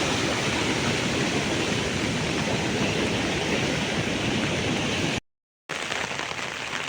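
Floodwater from the swollen Kajali river rushes across a road in a dense, steady roar of flowing water, close and loud, with a brief dropout near the end and no voices.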